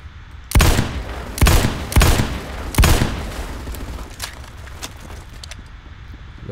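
Gunfire in the Roblox game Phantom Forces: four loud, sharp shots about half a second to a second apart, followed by fainter distant pops over low game ambience.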